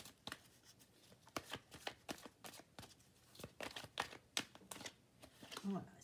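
Oracle cards being shuffled by hand for a card reading, with crisp riffling snaps and papery flutters in irregular bursts, close and moderately loud, and faint sound in the background.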